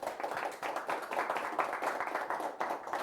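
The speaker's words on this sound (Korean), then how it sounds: "우리 다 같이 박수로 한번 환영하겠습니다." An audience claps together in welcome at a business roundtable forum, a dense, steady round of many hands filling the room at moderate loudness throughout.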